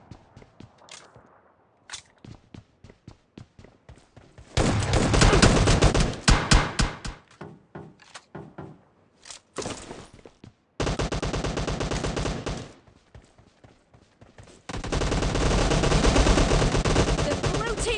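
Gunfire from the mobile battle royale game PUBG Mobile in a team deathmatch shotgun match: a run of sharp single shots, then three long, loud bursts of continuous close-range fire with brief gaps between.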